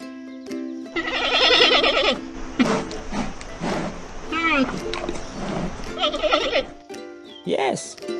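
A panda makes a close, high bleating call with several short, wavering cries and squeaks separated by brief pauses, heard alone over faint background noise.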